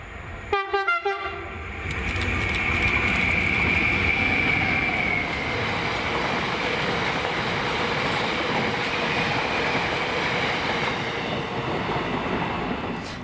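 Class 66 locomotive 66734 hauls a cement freight train through Dunlop Station, a brief horn burst opening before a loud, steady rumble of the diesel and rolling wagons that holds close and continuous throughout.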